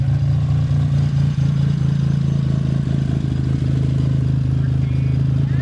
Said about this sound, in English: You got a cam in this, don't you? Yep. Okay, so you're gonna have a lumpy idle.